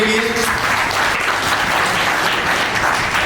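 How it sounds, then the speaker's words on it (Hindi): A seated audience at a school gathering for needy children gives loud, enthusiastic applause for a guest taking a seat, thick, continuous clapping close by throughout. "जोरदार तालियां उनके लिए।"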